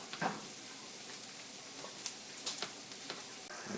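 Food sweating in a hot pan gives a steady, quiet sizzle, broken by a few short crackles and pops.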